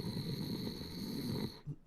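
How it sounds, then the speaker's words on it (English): A cat-like character in a video game snores, slow rhythmic breathy snores repeating steadily at close range, then a brief pause and a softer final snort. "She may be a cat, but she snores like a bear."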